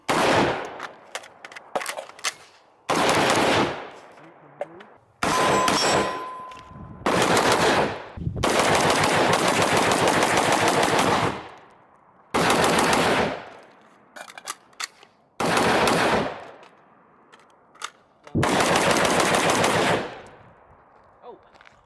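Bushmaster ACR rifle fire in a game: about eight loud, close automatic bursts, each a second or two long, separated by short silences.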